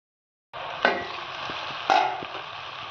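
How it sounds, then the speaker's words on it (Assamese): Chicken meat and spice paste fry in a pan of hot oil with a steady, close sizzle, broken by two louder stirring bursts, with no voices. "মাংস ফ্ৰাই হৈ গৈছে।"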